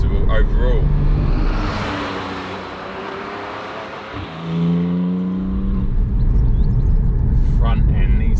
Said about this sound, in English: It is lovely just being able to grab the pedal and pull a gear out of a roundabout like that